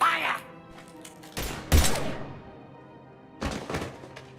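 Gunfire in Mass Effect 3 on the Soldier class at Insanity difficulty: a few heavy, sharp shot bursts with thudding impacts, separated by quieter stretches where game dialogue voices are heard.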